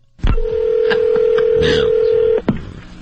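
Telephone keypad tones for a prank call: a few short touch-tone beeps, then one long steady tone lasting about two seconds, followed by a final quick tone, loud and close with no voices.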